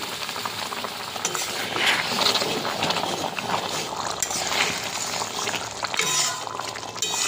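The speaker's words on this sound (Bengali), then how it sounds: "এবার গরম জল দিয়ে দিলাম" Gati kochu curry simmers after hot water is poured in, giving a steady, close bubbling and hiss with faint stirring and clinks over it.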